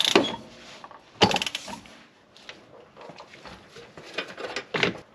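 Bolts tightened on the lower control arm of a BMW X5 E70, giving a few close mechanical clicks and ratcheting bursts with scattered clanks and pauses between them.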